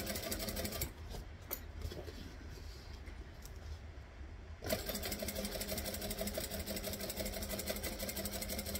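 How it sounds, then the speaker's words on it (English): A sewing machine top stitches a curve on a garment with a steady, close mechanical whir. It slows and quietens briefly midway, then resumes its fast, even chatter. "I want to go slow because top stitching the curve is important and I want it to be pretty."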